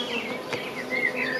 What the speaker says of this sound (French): on a pas mal d'abeilles dedans